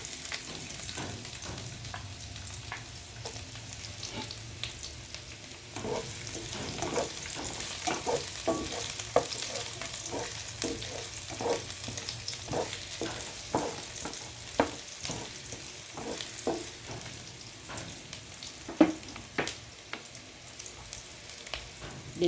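Onion frying and sizzling in a pan for a vegetable sauté, a steady hiss with repeated scraping clicks of stirring throughout, close up and with no talk.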